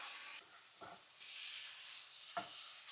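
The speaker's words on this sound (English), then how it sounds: "while this is kind of just sizzling on the pan" Ground beef seasoned with taco seasoning sizzles in a frying pan, a faint steady hiss with two brief stirring scrapes, quiet and close, with no voices.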